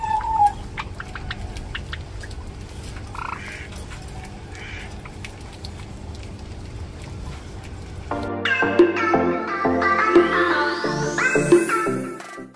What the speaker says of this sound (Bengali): কত জাবা পাখি,